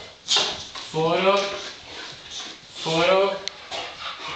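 Two dogs at home giving whiny, pitched whimpers and yelps in two short bursts, close by, with a person talking between the bursts.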